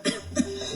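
A person coughs twice close up, two short harsh bursts a fraction of a second apart, over a faint steady hum in a quiet room, with no talking.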